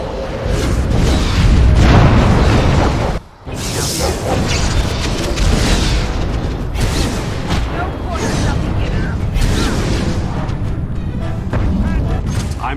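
Loud, dense fire spell explosions from the fantasy game Dragon Age: Origins, booming continuously with crashes and bursts, a brief dip near the third second, over a busy battle background with voices mixed in.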